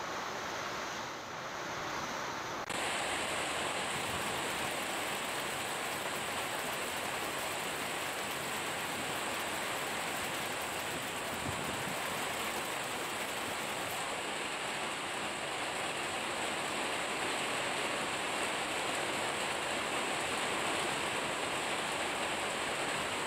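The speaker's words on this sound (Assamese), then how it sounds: "প্ৰচণ্ড ধুমুহা বৰষুণ" Heavy rain pours down during a violent thunderstorm, a steady dense broadband roar that stays loud and unbroken throughout, with no voices.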